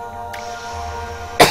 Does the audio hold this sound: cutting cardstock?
no